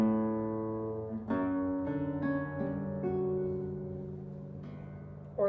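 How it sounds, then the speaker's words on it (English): Classical guitar played tasto over the fretboard for a warm, soft tone, with a few sustained chords and single notes ringing and fading gently. "How I accomplish that is to play tasto, which means to play over the fretboard,"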